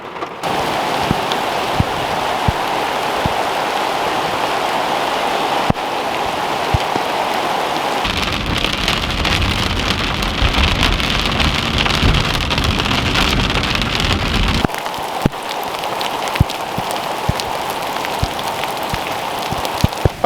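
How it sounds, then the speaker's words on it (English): Steady rain mixed with hail pours down in the High Sierra backcountry, a dense, continuous hiss with scattered sharp pellet ticks, swelling heavier and louder through the middle stretch before easing back, with no voices. "we got hail and raining pretty good right now"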